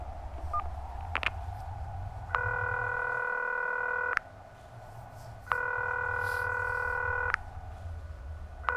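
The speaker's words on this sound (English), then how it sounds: "we have a phone over here, which will, again," A telephone in a video game plays bursts of dialing tones: two long steady electronic beeps separated by a pause, preceded by short clicks, loud and clear with no talk over them.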